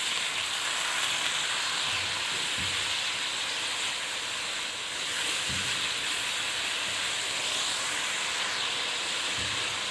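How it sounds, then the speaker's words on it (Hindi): Small chicken pieces frying in a pan for desi-style spicy pasta, giving a steady broadband sizzle and hiss throughout with a few faint low knocks and no talk. "चिकन को थोड़ी देर इसमें पकाएंगे"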